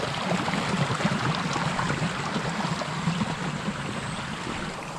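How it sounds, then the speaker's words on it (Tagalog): Irrigation water rushes strongly along a channel near a jackfruit tree, a steady, dense, close roar of flowing water throughout with no talk. "Lakas po ng dating ng irrigation"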